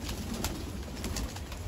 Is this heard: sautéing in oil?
no